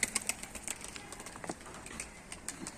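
An Arap posta pigeon circles overhead, its wings flapping in quick faint bursts against a quiet outdoor background, with a few brief chirps.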